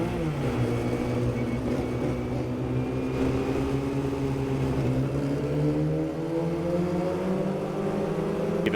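A Formula Ford race car lined up for a start at Summit Point Motorsports Park rolls off steadily in first gear, the engine drone rising gradually and staying close and continuous, with no talk.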